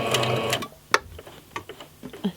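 A sewing machine stitches through two layers of fabric with pins in place, running in a fast rhythmic whir before stopping, followed by scattered clicks and taps from handling the machine.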